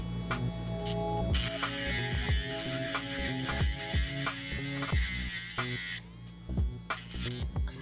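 Electric dog nail grinder whirring with a high buzzing whine that cuts in and out, pitch dipping in repeated pulses as it grinds against nails, close and alone.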